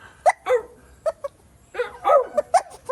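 A small dog makes soft little whimpers and yips, short squeaky noises in irregular bursts, close and fairly quiet.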